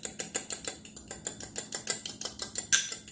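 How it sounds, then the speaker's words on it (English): An egg beaten with a utensil in a bowl for an oat cake batter, rapid rhythmic clicking strokes of about six per second, close and crisp, with no talk. "And then I'm gonna beat my egg."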